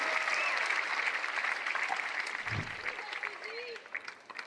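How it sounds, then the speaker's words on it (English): A crowd at a pickleball singles match at the PPA Finals bursts into loud applause and cheering that gradually thins out, with commentary spoken over the clapping. "the crowd erupts on behalf of Connor Garnett"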